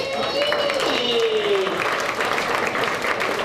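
An audience applauds a presenter at a 2016 tribute evening, a steady wash of clapping that builds after a brief tonal, voice-like sound at the start and carries on evenly to the end.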